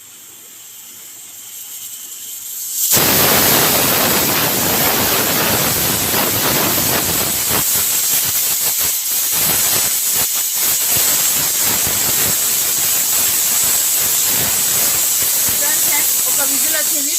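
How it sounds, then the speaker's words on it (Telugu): A pressure cooker on a stove suddenly releases steam after a quiet start, a loud sustained hissing whistle that stays strong and continuous to the end. "ఒక విజిల్ వచ్చింది"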